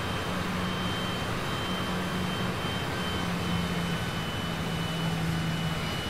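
Cessna Citation CJ4 jet engines in Microsoft Flight Simulator drone steadily, a loud even roar with a low, slightly wavering hum running underneath throughout.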